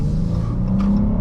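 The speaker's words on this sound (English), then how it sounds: "Let's do one more acceleration up this hill." A 2021 Chrysler 300S sedan with a V6 accelerates up a hill, giving a steady, muted engine drone with road rumble, heard briefly from inside the cabin.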